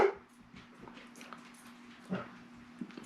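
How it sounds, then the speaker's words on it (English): Dogs at home, a close whimpering and whining with short yips and soft bark-like sounds, a few quiet bursts over a faint steady hum. "but he barks anyway. They both bark."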